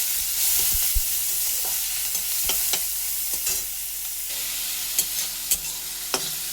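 Chopped onion, green chili, garlic and ginger hitting hot oil for an egg omelette curry: a bright continuous sizzle close by, punctuated by sharp spatula knocks and scrapes against the pan, no talking.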